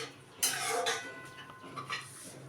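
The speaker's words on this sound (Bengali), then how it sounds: "উচ্ছে চচ্চড়িটা হোক কিছুক্ষণ, আর দিয়ে দেবো ঢাকা" A metal lid clanks onto a cooking pan of bitter gourd curry simmering with mustard paste and lentil dumplings, giving a short sharp clatter followed by a few fainter metallic rattles close by in a quiet kitchen.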